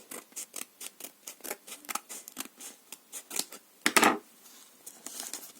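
Crisp crinkling and snipping bursts as a plastic packet is handled and opened, a rapid series of short rustles with one louder tearing crackle near the end.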